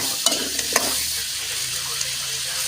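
Onions, ginger, garlic and tomato sautéing in a pan for a fish curry, giving a loud, steady sizzle throughout with a few light scraping stirs near the start.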